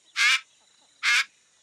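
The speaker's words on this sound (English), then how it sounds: "It's an umbrella bird, Ellie." A cartoon umbrella bird of the rainforest calls twice, loud harsh honking squawks about a second apart with silence between.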